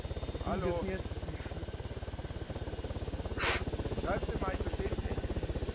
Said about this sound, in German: Der Heli ist viel zu laut.